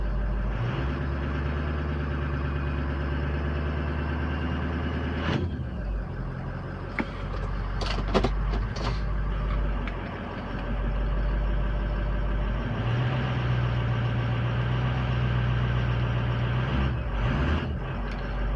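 A diesel truck engine idles with a deep steady rumble, then gets a little throttle, rising briefly in pitch and loudness before settling, with a few clicks and knocks along the way and no talk.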